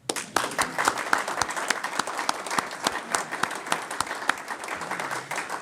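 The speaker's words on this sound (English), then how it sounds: "We can applaud." Sparse applause in a room at a city mayor's inauguration ceremony, individual claps clearly separate and uneven, moderately quiet and lasting several seconds without talk.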